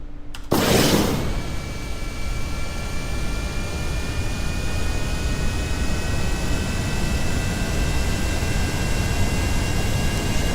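A jet-type aircraft engine in the Kerbal Space Program video game roars at full throttle as one loud, continuous broadband rush after a short start, with a steady whine on top and no voices.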